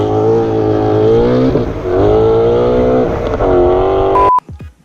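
A supercharged Ford Mustang 5.0 roars loudly under hard acceleration, its engine note climbing through rising pitch sweeps with brief dips between gears before cutting off abruptly into quiet.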